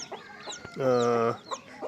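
A mother hen with chicks clucks in short bursts, then lets out a longer, tonal call before the clucking resumes; close and clear.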